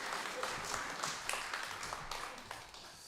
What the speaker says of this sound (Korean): 박수로 우리 맞이해 주시면 감사합니다